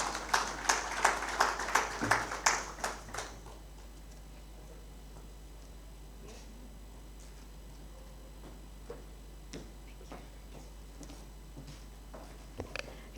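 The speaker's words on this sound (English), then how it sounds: "may we clap hands for Nomalanga as she comes to take the podium" An audience at a Winter School event in Victoria Falls claps hands in a quick, steady rhythm for a few seconds as a speaker comes to the podium. Scattered faint taps follow in an otherwise quiet room.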